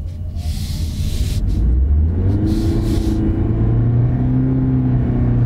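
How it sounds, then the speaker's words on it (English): A 196-horsepower Toyota accelerates hard on a small drag strip, heard from inside: a loud engine drone rising in pitch as speed builds, with steady road rumble underneath. "We're going to take it to our little drag strip and see what this 196 horsepower can do"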